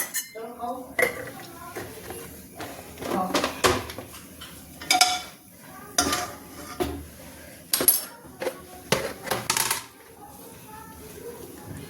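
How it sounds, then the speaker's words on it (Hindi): A metal kadhai pan is set on a stove and ghee is spooned in, giving a series of close, bright clanks and scraping clinks of metal on metal while someone talks over them. "अभी देखिए चढ़ा दिया कढ़ाई, और कढ़ाई में हम डालेंगे घी।"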